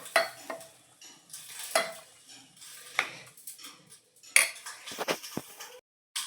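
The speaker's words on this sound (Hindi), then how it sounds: "मिला देते हैं, इसको मिक्स कर देते हैं।" Green chutney mixed in a bowl, a spoon scraping and tapping against the sides in short separate strokes with pauses between them, close and fairly quiet, no talking.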